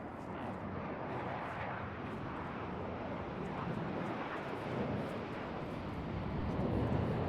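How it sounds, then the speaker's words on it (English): Jet aircraft roar overhead in the video game Arma 3, a broad, continuous rushing drone that holds loud and steady throughout without voices. "Be helpful if those jets fucked off"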